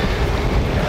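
Wind buffets the microphone of an SJCAM SJ9 Strike action camera while riding at about 28 km/h, a steady, loud, low rumbling roar with no pauses.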